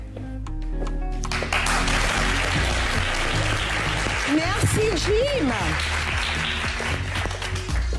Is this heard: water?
no